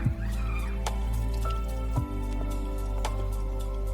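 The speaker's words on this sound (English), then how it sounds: "Once mixed, we pour the mercury through a filter cloth." Liquid mercury is poured through a filter cloth, heard as close wet drips and soft squishing splashes over a steady low hum, with a couple of heavier plops.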